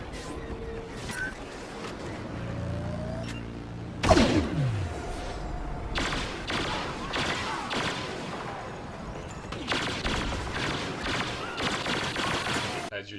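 Blaster gunfire rattles in bursts while an enemy is shot in the PC game Star Wars Battlefront, with a loud crash midway and further volleys later, mixed with game effects and a voice talking over it.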